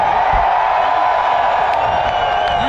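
Crowd cheering and whooping at the second Freedom 500 circle track race, a steady, loud wash of voices with scattered shouts throughout.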